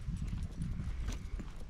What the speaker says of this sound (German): Und da drüben hast du die Pferde.